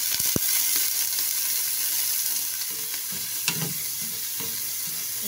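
Chopped shallots and garlic sizzle steadily in hot oil in a pan, with a constant bright crackle and occasional stirring scrapes and small clinks, heard close with no talking.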